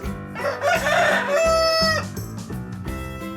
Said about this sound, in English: The rooster makes the sound cock-a-doodle-doo.